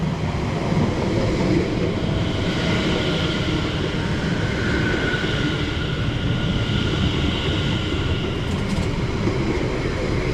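A Cambridge-bound passenger train pulls into a branch-line station, a continuous broad rumble of wheels and carriages with faint high squeals, steady and fairly close throughout, with no voices.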